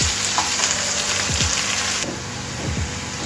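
Chopped green chillies fry in a pan with a steady, loud, close sizzle, with a few brief clatters as they are stirred.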